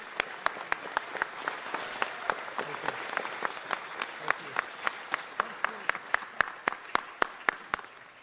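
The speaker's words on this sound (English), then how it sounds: "How about a big round of applause for our commissioners?" An audience at a city council meeting applauds the city commissioners with sparse, distinct claps, individual sharp hand strikes ringing out at an uneven rhythm over a quiet room, growing slightly more regular and louder toward the end.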